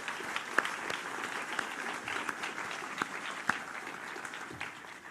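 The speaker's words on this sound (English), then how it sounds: "So we can give them all a round of applause" An audience at an environmental excellence awards ceremony claps for honourees, fairly quiet and distant, with a few sharper individual claps standing out from the even patter.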